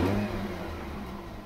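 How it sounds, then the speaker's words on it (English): An old car's engine, recently rebuilt, restarted while still hot, catching and revving briefly before settling into a steady idle hum, close by and fairly quiet. "So let's try a bit of a hot start now"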